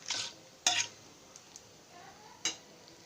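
Cinnamon stir-frying in a pan for cabbage curry, with a few sharp scrapes and clinks of a spatula against metal over a faint, quiet sizzle, the strokes spaced irregularly.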